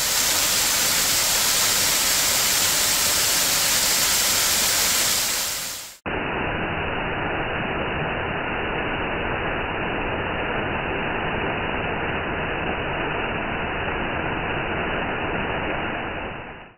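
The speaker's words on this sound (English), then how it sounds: "Waterfall." A steady, dense rush of falling water at Slick Rock Waterfall, loud and continuous like a nearby waterfall, with the tone turning duller partway through.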